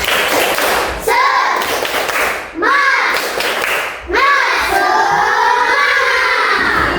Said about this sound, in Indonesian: Tahu tepuk semangat ya?